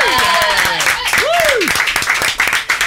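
A studio audience at a French radio show applauds and cheers to welcome Cameron Diaz, the dense clapping mixed with whoops and a rising voice close by.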